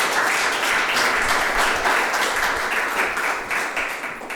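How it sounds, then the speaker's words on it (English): Applause from an audience at a poetry reading, a dense, steady wash of many hands clapping that stays loud throughout and thins slightly toward the end. "let's give him a round of applause."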